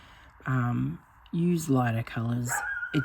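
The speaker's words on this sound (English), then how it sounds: "Sorry if you can hear my puppy barking." A puppy barking in short yips and bow-wows close by, several bursts spread across the moment, overlapping with someone talking in a room.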